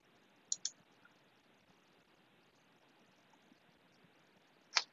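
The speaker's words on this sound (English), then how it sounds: "we're going to go ahead and click on send intent to receive" Sharp computer mouse clicks in a quiet room, a quick double click near the start and a single louder click at the end, with no talking.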